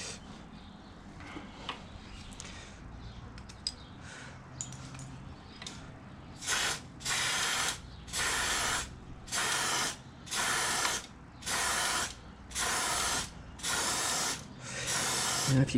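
Aerosol lubricant sprayed onto a bicycle chain in nine regular, loud bursts of hiss of about a second each, following quieter handling noise.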